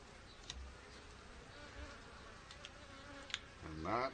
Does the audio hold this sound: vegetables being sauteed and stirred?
no